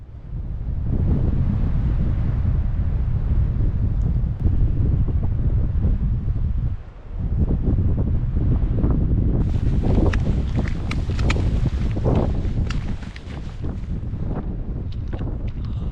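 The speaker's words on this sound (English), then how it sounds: "it is blowing an absolute hoolie" Heavy gale-force wind batters a microphone on an exposed hillside, a loud, sustained roaring rumble with brief dips and harsher gusts toward the end.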